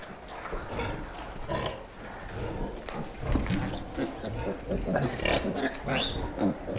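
Pigs grunt and snuffle inside a sow shed, a busy overlapping mix of short grunts and squeals close by, with some movement noise between them.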